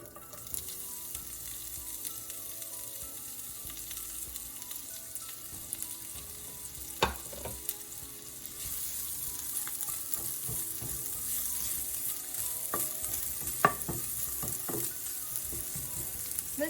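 Onions sautéing in a tablespoon of hot oil on medium-high heat for spring roll stuffing, a steady close hiss of frying with occasional sharp clicks of stirring, no voices.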